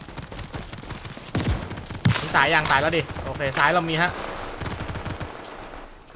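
Rapid bursts of M416 assault rifle fire in a video game crackle in the background while two people talk over it, the shots dense and continuous.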